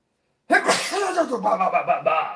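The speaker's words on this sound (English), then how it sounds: "Hold on, I got to sneeze." After a moment of silence, a single loud, close sneeze erupts, trailing into a drawn-out voiced exhale.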